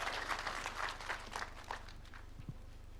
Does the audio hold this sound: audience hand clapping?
yes